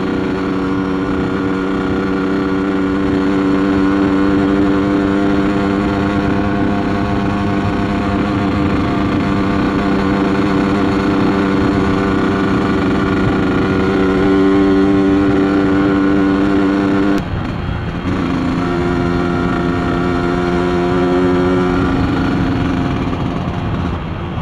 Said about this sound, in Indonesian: knalpot kayak gini tuh nggak boleh.